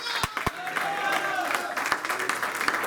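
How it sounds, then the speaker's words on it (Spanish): A church congregation applauds steadily, with a few loud distinct claps standing out near the start and scattered through the ongoing clapping, and voices mixed in. "Usted le puede dar un aplauso a Cristo"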